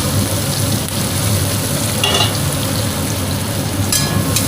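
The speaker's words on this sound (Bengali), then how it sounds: "পেঁয়াজটা একটু ভাজা হোক," Chopped onions frying in hot oil in a pan after fish has been fried, a loud, steady sizzle close by with occasional stirring scrapes and no talking.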